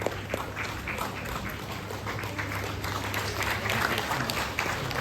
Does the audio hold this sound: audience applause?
yes